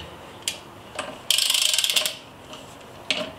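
A WIEPRIMA torque wrench rated 28–210 Nm ratchets as a screw is tightened: a few isolated clicks, then a dense burst of rapid clicking for about a second, followed by more scattered single clicks, close and moderately loud.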